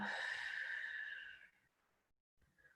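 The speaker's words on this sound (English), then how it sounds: "Deep breath, inhale. And exhale." A deep breathy exhale during a yoga flow, a soft airy rush lasting over a second that fades into near silence, followed by a faint brief breath at the end.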